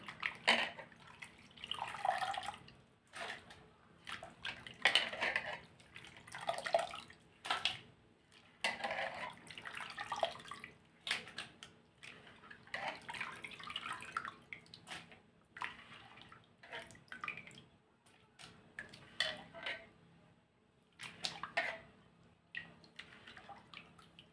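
Sliced potatoes being swished and rinsed in a bowl of water, soft repeated sloshing and dripping in uneven bursts, close and fairly quiet.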